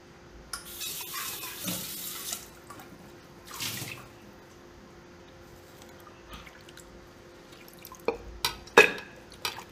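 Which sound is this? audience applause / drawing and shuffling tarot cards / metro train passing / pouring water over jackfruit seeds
pouring water over jackfruit seeds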